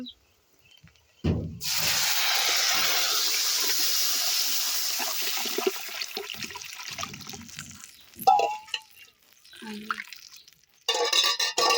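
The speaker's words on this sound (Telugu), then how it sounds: "ఇప్పుడు దీని మొత్తం ఒకసారి కలుపుకోవాలి" A pot of rasam with dried chillies being stirred, producing a steady rushing, swishing liquid wash that runs for several seconds, followed by a few brief clinks and scrapes of the utensil against the pot.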